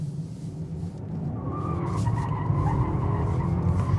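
A new BMW M5 skidding on tarmac with a sustained tire squeal over the deep roar of the engine, loud and close, swelling in intensity toward the end without any talking.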